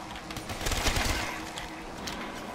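Rapid gunfire from the Call of Duty zombies map Kino der Toten, several rounds fired into zombies in a dense burst that swells mid-clip and trails off over steady game background noise.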